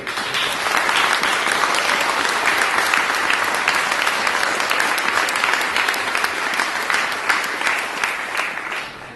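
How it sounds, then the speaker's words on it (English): A church congregation at St Georges Church in Stamford gives its volunteers a sustained round of applause, with many hands clapping steadily and loudly for several seconds before easing off slightly. "Can we give them a round of applause?"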